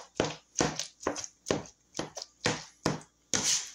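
A knife chops apples for apple cinnamon bread, about eight crisp, evenly spaced strikes on a cutting board, close and clear with no talking.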